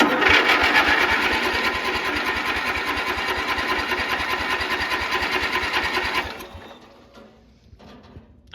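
An old lawn mower engine, left sitting for years, cranks and sputters in a fast, loud rhythmic chatter close by for about six seconds before cutting out into near silence.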